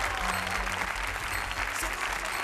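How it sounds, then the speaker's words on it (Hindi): Studio audience applause on a Hindi reality television show, dense continuous clapping and crowd noise filling the short stretch, steady and fairly close. "अच्छा सब्जी भाई आगे जोरदार तालियां, सब्जी भाई राठवा।"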